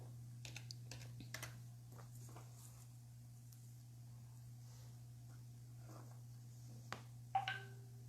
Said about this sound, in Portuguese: Eu estou digitando aqui para ela.